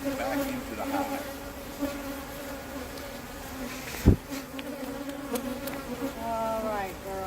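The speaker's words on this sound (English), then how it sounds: "We shake the bees off." Honey bees buzz thickly around capped honey frames at an open hive, a loud close droning swarm, with one sharp knock partway through.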